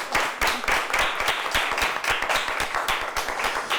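Studio audience at a high school quiz show claps for the winning team, a dense, loud burst of many hands clapping continuously, with no voices over it.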